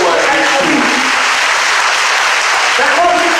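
A church congregation applauds in a dense, continuous wash of clapping that stays loud and even throughout, with crowd voices mixed in.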